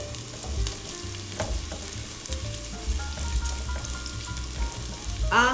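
Garlic and ginger sizzle steadily in a hot pan while being stirred, a continuous close frying hiss with low rumble and occasional clicks of the utensil, no one talking.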